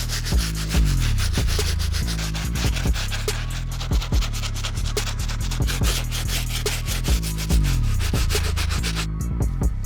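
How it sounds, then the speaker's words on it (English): Stiff bristle brush scrubbing the soles of 2010 Air Jordan Cool Grey 11 sneakers in cleaning solution, a loud, steady wet rubbing with repeated back-and-forth strokes over a low rhythmic bed, no talking. "we're gonna grab our stiff bristle brush and clean up these soles"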